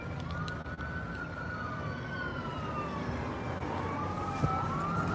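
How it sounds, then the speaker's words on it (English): Distant emergency sirens on a Las Vegas street wail and rise and fall steadily over a low road rumble, with a faint horn-like tone partway through, as they approach. "I still hear sirens a long way away."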